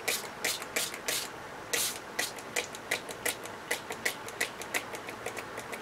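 A hand spray bottle sprays in quick bursts as its nozzle starts to clog with paint or ink for crafting, a run of short, close hissing pumps that grow irregular.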